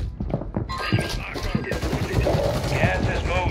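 Loud bursts of in-game gunfire from Warzone 3, several sharp shots and rattling automatic fire packed close together, with a voice talking over part of it.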